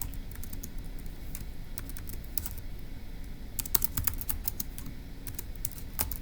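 Rapid, light clicking of keys on a computer keyboard, a close, steady patter of individual keystrokes with small bursts and pauses, alone with no talking.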